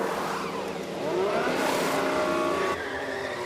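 A Formula 1 car in the F1 Manager 22 racing game during a pit stop in the Monaco pit lane, with a high engine whine and tyre noise rising and easing over a continuous mechanical drone.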